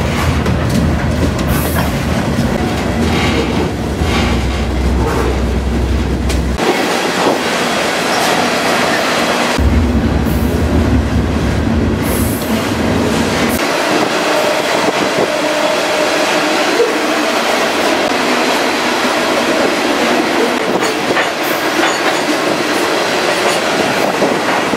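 A freight train pulls out of a rail yard in Slaton, Texas, its cars clacking and rumbling steadily for the whole stretch, loud and close, with occasional metallic squeals over the heavy low roar.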